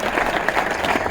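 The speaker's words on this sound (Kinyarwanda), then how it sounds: "Dukomere Imana yacu amashyi." Church audience applause at an igitaramo gathering, dense and steady clapping from a crowd that fills the whole brief moment at close range.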